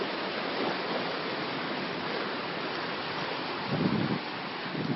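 Ocean waves break at a rocky intertidal shore in a continuous broadband wash, with a slightly louder surge near the end and no voices.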